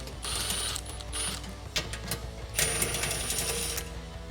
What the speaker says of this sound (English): So with a 16mm socket, we're next going to remove our bottom skid plate here.